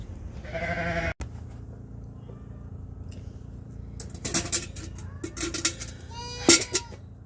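A goat bleats at morning milking time on a homestead, giving a few short, loud, wavering calls near the end, with quieter livestock noise and a low steady hum beneath.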